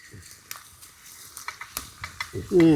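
Fenugreek seeds and tempering spices dropped into hot oil for a fish curry, crackling in sparse, sharp pops close by, with a brief voice at the end.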